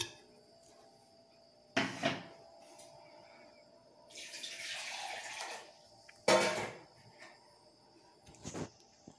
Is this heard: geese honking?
no